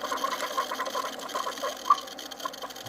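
Hotel room coffee maker brewing a cup at Disney's Coronado Springs Resort, a steady gurgling, bubbling whir with small pops, close by and moderately quiet, with no talking.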